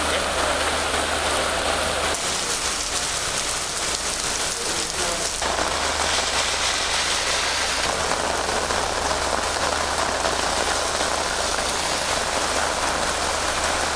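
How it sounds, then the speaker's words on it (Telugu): Heavy rain pours down in Uppal, Hyderabad, a loud, dense, continuous downpour hissing across surfaces throughout. "హైదరాబాద్లో కుండపోత వాన పడుతోంది."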